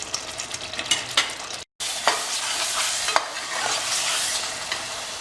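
Masala with fresh yogurt for whole goat mutton ribs is sautéed in a pan, giving a close, continuous sizzle broken by frequent scraping stirs and one brief silent gap, with no talking.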